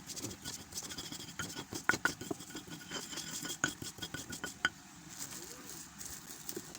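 Ingredients being pounded and ground to a fine powder with a stone mortar and pestle (ulek), producing rapid, close scraping and tapping strokes in an irregular rhythm with small sharp knocks.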